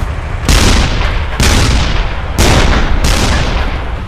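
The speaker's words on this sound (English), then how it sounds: "The South Vietnamese open fire with deadly accuracy." Heavy bursts of gunfire and cannon fire as South Vietnamese forces engage NVA tanks near a bridge, four loud booming volleys each trailing into rumbling reverberation.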